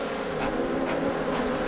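Agitated honey bees buzz loudly and continuously close to the microphone at an opened hive during an inspection in western Oklahoma, a dense, steady droning swarm.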